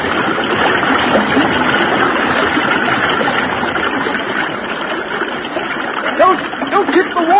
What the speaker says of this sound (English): Don't kick the water so hard.